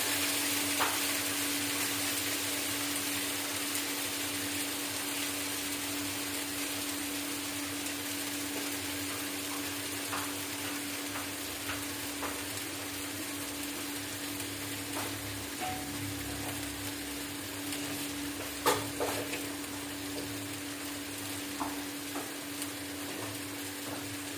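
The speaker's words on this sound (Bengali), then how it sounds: "স্পুনটা দিয়ে ভালো করে নাড়বো।" Chilli chicken being stirred with a spoon in a pan, a steady soft sizzle and frying hiss with faint scraping clicks, continuous and close, no talk.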